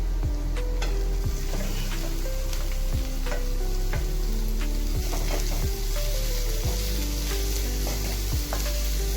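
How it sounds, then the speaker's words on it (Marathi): Onion, chilli and garlic fry loudly in hot oil with a dense, continuous sizzle, while a spoon taps and scrapes the pan at a steady, regular pace; no talking. "आता आपण त्यात कांदा टाकत आहोत."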